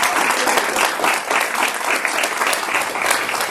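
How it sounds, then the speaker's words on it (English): A live audience claps steadily throughout, a dense, close round of applause honoring a presentation on the Green Book travel guide, with no talk over it. "I want to give a huge round of applause"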